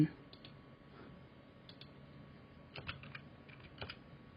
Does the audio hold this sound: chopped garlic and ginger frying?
no